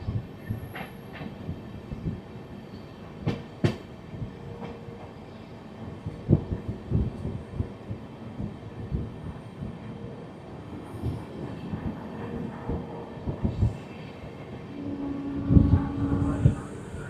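The Ramnagar Dehradun Express, a 16-coach decorated train on its inaugural run, rumbles along from inside a carriage with irregular clacks and knocks over a steady low drone, and no talk.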